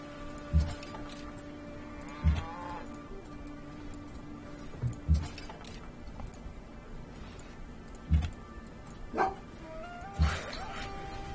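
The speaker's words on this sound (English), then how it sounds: "Not quite sure what she's barking at. The door, I think." A dog barks at a door indoors, giving a few short sharp barks spaced a second or two apart over a steady ticking clock and quiet background game music.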